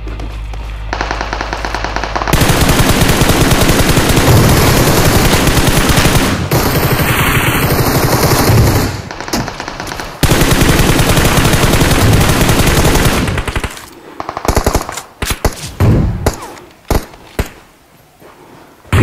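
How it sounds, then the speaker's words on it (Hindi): Sustained, loud machine gun fire in the mobile battle royale game PUBG Mobile, long continuous bursts close by that break into scattered shorter volleys toward the end. "गोली की आवाज आई सामने से"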